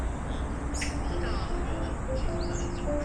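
Birds chirp and sing in a forest, a few short high calls and whistles standing out over a dense, steady background hiss.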